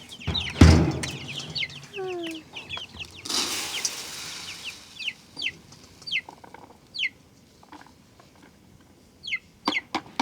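Chickens cluck and squawk around a portable livestock waterer on a farm, starting with a loud close flurry and then repeated short calls at irregular intervals, some near and some farther off.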